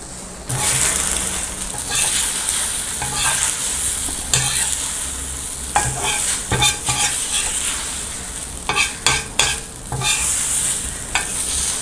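Egg mixture sizzles steadily in hot oil in a pan, with repeated scraping clicks and taps of a spatula as it is stirred and turned, loud and close without talk.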